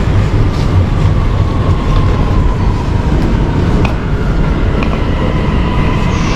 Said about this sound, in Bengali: একটা মেট্রো চলে গেল।